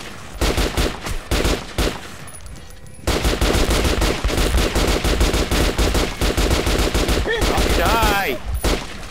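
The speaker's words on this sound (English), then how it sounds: "Oh, the Saiga. Yeah, that gun, that one hurts. It's an automatic shotgun," Saiga automatic shotgun firing in Metro Last Light: loud, rapid, close blasts in fast bursts, a brief lull, then a long sustained stretch of heavy shooting with no talking.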